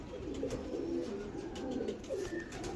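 A Teddy Salara pigeon in a breeder's loft coos in low, rolling bursts that repeat steadily at moderate loudness over a faint background hum.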